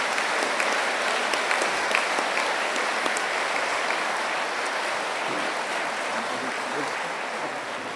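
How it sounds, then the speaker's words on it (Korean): Sustained applause from a large audience fills a university president's inauguration ceremony as the new president, Kim Yong-hak, signs his oath, a steady dense clatter of many hands at even loudness throughout with no one speaking. "서명을 해주실 때 여러분들 박수로 축하해 주시기를 바랍니다."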